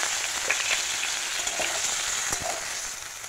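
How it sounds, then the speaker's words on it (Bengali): Cauliflower florets fry in hot oil in a pan, making a dense, steady sizzle close by with a few light stirring knocks. "এখন এই তেলে ফুলকপিগুলোকে একটু ভেজে নেব।"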